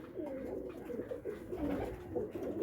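Pigeons coo in soft, repeated rolling calls, fairly close and continuous, with no other sounds intruding.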